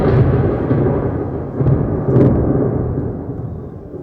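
A stage-show thunderstorm effect rolls in as loud, low rumbling thunder with two swelling surges, fading slowly toward the end, with no talk over it.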